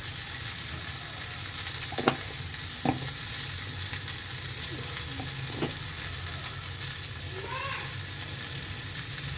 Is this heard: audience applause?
no